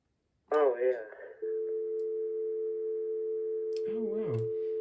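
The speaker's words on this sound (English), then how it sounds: "that was my AT&T line dial tone" A voice speaks briefly, then a steady AT&T telephone line dial tone hums on continuously, with more talking starting over it near the end.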